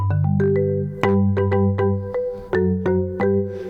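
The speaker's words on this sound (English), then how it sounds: "You can do some like phone ringtones with that." A phone-ringtone melody played on a Nord digital piano: a quick sequence of bright, chiming notes rising and falling in a steady pattern, each note ringing out and overlapping the next, clear and close with no one talking.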